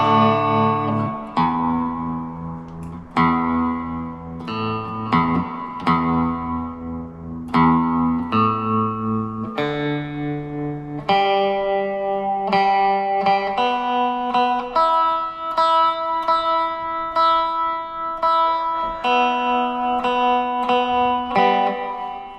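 Clean electric guitar, a Squier 40th Anniversary Jazzmaster Gold Edition, playing a melodic run of notes and chords through a workshop amp, with a wavering tremolo and spacious reverb tail.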